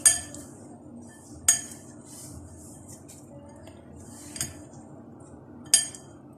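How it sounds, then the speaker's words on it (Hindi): Chopped vegetables tossed with a pinch of salt in a bowl, with four sharp, well-spaced clinks of a utensil striking the bowl over a quiet background of soft handling. "अब इनको अच्छे तरीके से मिक्स कर लेंगे तमाम वेजिटेबल्स को"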